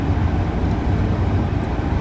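Exhaust brake engaged on a MAN 12.153 truck, a steady loud low rumbling roar with a broadband rush that holds evenly for about two seconds, close up with no talking.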